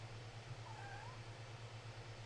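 A cat gives a single soft meow, faint and somewhat distant, over a steady low electrical hum.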